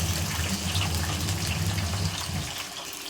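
Potato pieces dropped into hot frying oil give a steady broadband sizzle and bubbling hiss with a low rumble beneath, loud and close throughout, easing slightly toward the end.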